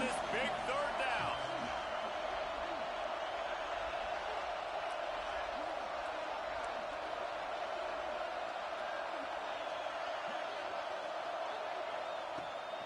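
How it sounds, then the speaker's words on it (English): Football stadium crowd in the College Football 26 video game roaring for a big third down, a steady wash of cheering noise holding at a constant level, with a voice faintly beneath it. "The black shirts looking to this crowd, and they are delivering energy on this big third down."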